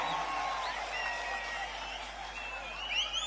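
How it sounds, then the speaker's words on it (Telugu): An audience at a public meeting in Kuppam claps, a soft, scattered patter of applause that seems some distance away and rises briefly near the end. "గట్టిగా చప్పట్లు కొట్టి కూడా చెప్పండి ఆమోదిస్తామని"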